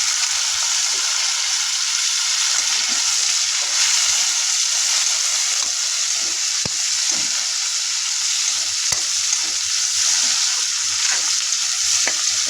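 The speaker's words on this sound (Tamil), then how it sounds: "இதை கொஞ்சம் லைட்டாக மசிகிற அளவுக்கு இதை வதக்கி எடுத்துக்கொள்வோம்" Tomatoes fry for a stingray fish curry, a close, even sizzle that runs the whole time while a spoon stirs and scrapes the pan in light, irregular taps.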